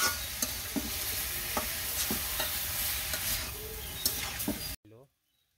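Green chilies frying in a pan with oil, giving a steady loud sizzle under occasional stirring scrapes and clinks, then cutting off abruptly near the end.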